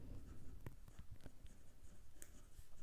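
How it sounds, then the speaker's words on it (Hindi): Quiet, close pen or marker strokes on a surface while working through a quadratic equations maths solution, a series of short scratchy taps and scrapes spread irregularly over a few seconds. "यहां पे लिख लो एवरेज स्पीड।"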